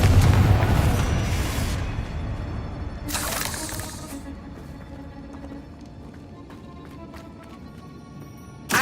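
A spell-cast explosion in the video game Hogwarts Legacy: a loud booming blast at the start that decays, a second sharp burst around the middle, then scattered small crackles and debris fading out.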